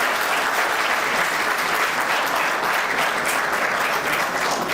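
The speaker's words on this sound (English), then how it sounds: "Please give a big round of applause for this." A large audience claps steadily at a formal event honoring a healthcare leader, dense, even applause filling the room from start to finish without talk.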